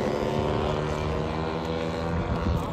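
Radio-controlled model aircraft making a show-center pass at a model airplane event, a loud buzzing propeller drone sweeping by with a steady, slightly shifting pitch.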